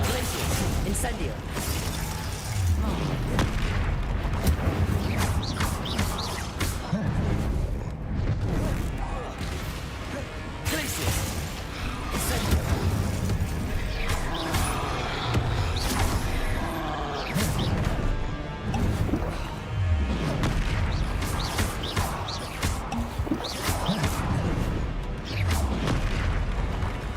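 Fire-spell blasts from the Hogwarts Legacy video game, dense booming crashes and impacts repeating rapidly throughout amid constant loud battle noise, with no pause between hits.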